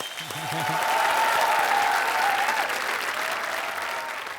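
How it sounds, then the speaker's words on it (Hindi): Studio audience applause on a television game show, a thick sustained burst of clapping that builds over the first second, stays loud, then eases slightly near the end, with brief tonal sounds underneath. "लोग, तालियां उनके लिए।"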